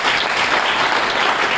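Loud, continuous audience applause from a crowd cheering a guest of honour at a community car-network NGO event, steady dense clapping with no pauses throughout.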